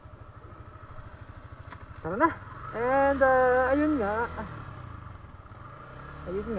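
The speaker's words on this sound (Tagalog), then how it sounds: "Grabe, napaka-smooth ng motor na to." Yamaha Sniper motorcycle engine idling with a steady low putter, then revving up in a couple of rising bursts close by, while someone talks over it.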